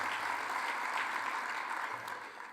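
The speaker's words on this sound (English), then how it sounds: "I think a round of applause for that team for bringing the conference to us" A conference audience at an energy event applauds, a brief faint wash of clapping heard from a distance, steady throughout and trailing off slightly.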